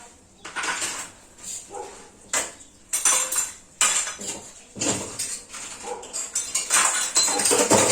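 Metal kitchen utensils clatter and fall in a series of sharp, irregular crashes and rattles, loud and close, building into a busy jumble toward the end.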